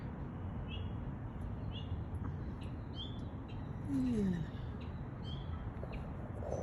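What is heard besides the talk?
birds chirping outdoors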